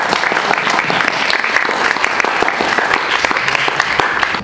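A school audience applauds at a 2024 finale event, loud dense clapping from many hands, sustained and even throughout at close range.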